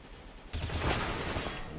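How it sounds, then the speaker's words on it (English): Burst of automatic sniper rifle fire in a Counter-Strike: Global Offensive pro match on Cache, starting abruptly and sustained as rapid cracking shots under an excited caster's commentary. "Mo mows them down with that auto sniper"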